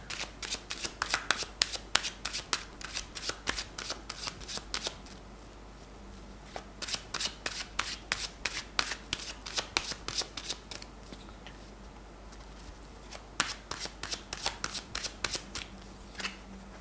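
Tarot cards shuffled by hand in quick riffling bursts, close and crisp, with a pause in the middle before the rapid papery flutter resumes, quiet background otherwise.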